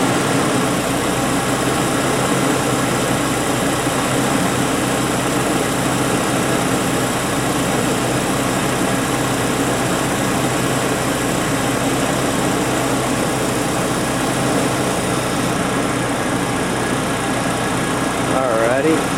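A car engine idles steadily during a deliberate lean-condition test, a constant mechanical drone with a faint high whine, close by and unchanging throughout.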